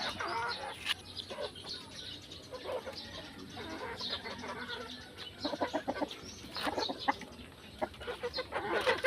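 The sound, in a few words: bantam gamefowl chickens clucking at feeding time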